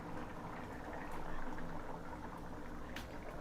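Ground masala goes into a simmering Chettinad chicken gravy, a quiet close bubbling and sizzling that swells briefly, with faint pouring and no voices.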